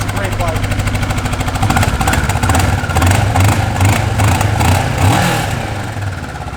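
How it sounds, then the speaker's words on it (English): A 2009 Kawasaki Ninja 650 motorcycle idles up close with an even, rapid pulsing thrum, swelling slightly as the throttle is blipped, steady and loud throughout. "It's a great running bike, guys. 2009 Kawasaki Ninja 650."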